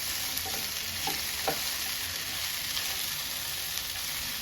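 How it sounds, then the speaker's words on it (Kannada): Ladies finger (okra) frying in oil, a dense continuous sizzle with a few faint stirring scrapes, close and even in level, without speech. "ಎಣ್ಣೆ ಹಾಕಿರೋದ್ರಿಂದ ಅದು ನೀಟಾಗಿ ಫ್ರೈ ಆಗುತ್ತೆ"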